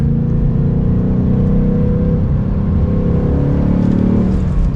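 A 2022 Ford Mustang GT coupe's exhaust drones in a steady, loud, low rumble from inside the cabin while driving, with little wind or road noise.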